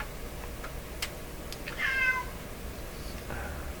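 A domestic cat gives a single short meow in a quiet room near a 1929 Templetone radio under repair, with a few faint ticks and clicks before it.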